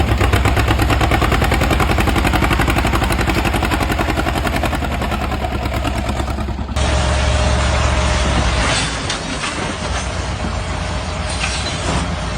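A tractor engine runs loud and close with a rapid mechanical rattle from a failing clutch, the tone shifting partway through and continuing steadily without talk.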